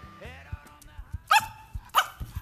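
A smooth coated Brussels Griffon gives two short, sharp, high barks, close and distinct, amid quiet indoor background noise and faint thumps.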